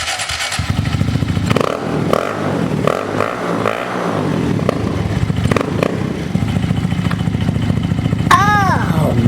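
Motorcycle engine fitted with a new airbox kit and plenum, running loudly close by with a steady throbbing rumble after a few early blips, and a brief rising-and-falling rev near the end; a voice is heard speaking early on.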